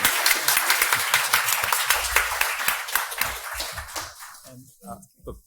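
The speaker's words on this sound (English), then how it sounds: "give them a huge round of applause" Crowd applause with many hands clapping densely, fading after a few seconds into a quieter room with a voice beginning to speak.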